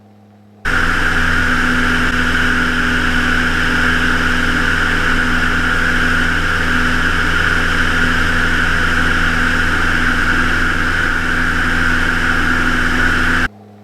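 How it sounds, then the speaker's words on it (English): A small single-engine propeller plane takes off and climbs at about 76 knots on a flight to the Outer Banks, its engine a loud, steady droning roar heard from inside the cockpit, with no voices. "Ease back on the stick here. And a nice smooth takeoff. Climbing at 76."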